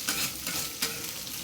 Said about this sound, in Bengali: আমি এভাবে আলুগুলো সুন্দর করে লাল লাল করে ভেজে নেব।